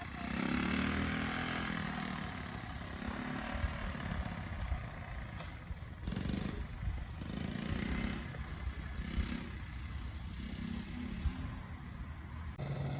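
A restored 1972 Honda Z50 mini trail bike with an 88cc big-bore engine runs steadily at low revs, a faint buzzing putter that holds for the whole stretch with only small dips.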